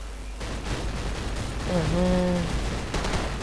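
Gunfire and blasts rattle through a Call of Duty 4: Modern Warfare match, with sharp bursts near the start and end, while a voice speaks briefly over the middle.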